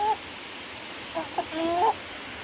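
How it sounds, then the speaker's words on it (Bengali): A tiger rooster in a cage in a village setting, giving a few short, quiet clucks over faint background noise. "আর আমার যে একটা টাইগার মোরগ আছে,"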